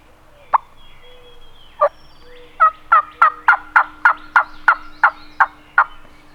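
A wild turkey gobbler gobbles close by and loud, one call, a pause, then about a dozen sharp gobble bursts in a quick, even series over a quiet outdoor background.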